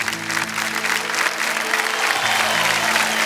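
Applause from a television quiz show studio audience: dense, steady clapping throughout, loud and close, with faint music beneath.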